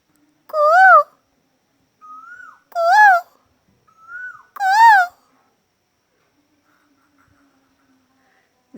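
An Asian koel calls from hidden cover inside trees, three loud rising two-note whistles spaced a couple of seconds apart, with softer single whistled notes between them answering the bird.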